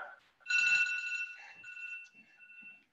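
An electronic workout interval timer alarm rings during a home full-body exercise session, a clear high-pitched beeping tone holding for about two seconds, moderately loud and heard without talk.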